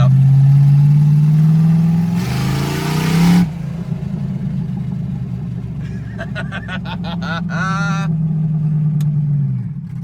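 A truck engine revs in second gear at a racing event. A loud, close rumble holds steady, swells into a brief harsher roar, then settles, with faint whining tones near the end.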